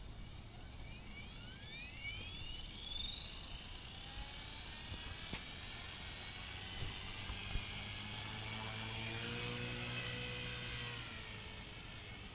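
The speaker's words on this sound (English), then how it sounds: "is Jordan flying his 450 Pro with one of my Hyperion 35C batteries." A Trex 450 Pro RC helicopter on a Hyperion 35C battery flies nearby, its high-pitched motor and rotor whine rising and falling steadily as it moves, with a faint low hum underneath and no talking.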